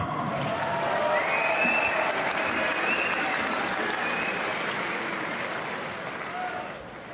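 Sustained applause from a crowd at a fight event after a bout, steady clapping throughout that tapers slightly toward the end.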